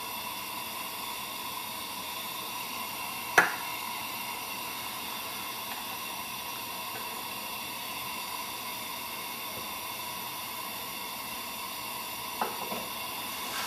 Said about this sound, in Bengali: এটাতে এবার কালো জিরে ফোড়ন দিচ্ছি, 1 চা চামচ মতো